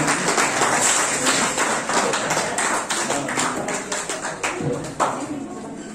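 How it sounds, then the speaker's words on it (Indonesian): Applause at an Islamic boarding school gathering, with students clapping for guests in a crowded room. It starts loud and dense and gradually thins toward the end, with some voices mixed in. "Tepuk tangan buat Pak Sanggari dan kawan-kawan."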